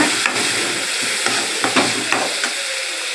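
Chopped onions and tomatoes sauté in a pan for a chicken gravy, a steady sizzle with a few sharp scrapes and taps from stirring.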